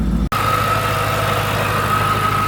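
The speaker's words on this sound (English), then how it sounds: "that will get rid of basically all the noise you hear from the fixed pulley" A Mercedes CLK55 AMG with an M113K swap idles nearby in a steady, even rumble with a faint rattle from the fixed pulley. A brief cut early on interrupts the steady hum.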